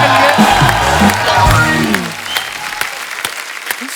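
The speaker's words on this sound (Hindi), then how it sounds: "जोरदार तालियां हमारे मेहमानों के" Studio audience on The Kapil Sharma Show bursts into loud applause and cheering for arriving guests, sustained clapping with whoops while a host's voice carries over the start.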